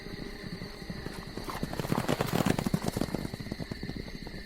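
Horses clatter away with rapid, overlapping hoofbeats that swell louder mid-stream and then ease off, against a steady background hum, with no speech.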